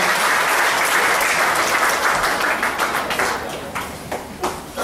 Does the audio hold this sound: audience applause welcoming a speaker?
yes